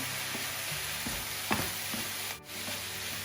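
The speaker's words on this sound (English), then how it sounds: "So let's give this a little stir around" Chicken rice stir fry with oyster sauce being stirred in a pan, a steady close sizzle with scraping and stirring strokes throughout, no talking.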